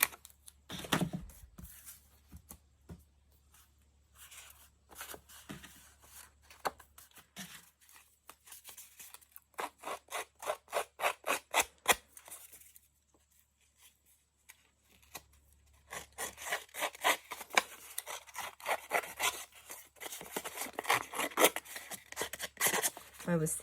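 Cut paper scraps being scratched and distressed for a mini junk journal page: bursts of dry rapid scraping strokes, close and fairly quiet, with pauses and a longer busy stretch near the end.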